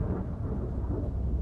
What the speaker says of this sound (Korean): 밖에서 천둥이 치는 소리가 들렸습니다.